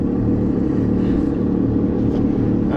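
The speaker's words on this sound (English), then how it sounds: "Alright, I got a little motor there." A small outboard motor on a boat runs steadily close by, a continuous low droning hum with a steady rhythmic throb on a test run after repairs, no speech heard.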